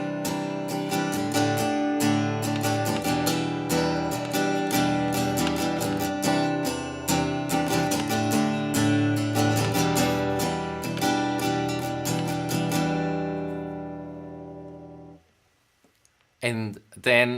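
Acoustic guitar strumming the bridge chords of a song, a busy rhythmic pattern of strokes ringing loud and close, then fading out before a brief few final strums.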